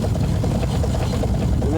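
Steam engine of a homebuilt steamboat from Alaska running, a loud, rapid throbbing beat with a deep rumble, close and steady, with a voice briefly speaking over it.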